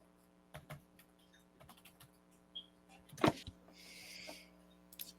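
Quiet, scattered clicks of typing on a computer keyboard in a room with a steady low hum, a few keystrokes spaced out and one louder clack, followed by a soft rustle, with no talking.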